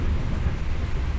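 Tegal Bahari passenger train running at about 45 km/h through a built-up area, heard from inside the carriage as a steady low rumble with faint wheel and track noise.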